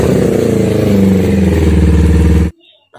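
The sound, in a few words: Kawasaki Ninja four-stroke motorcycle engine started and revved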